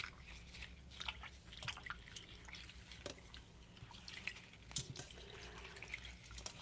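Water trickling and dripping, played as a soothing ASMR sound during a live rose ceremony, with soft irregular drips and splashes over a steady faint wash, quiet and close.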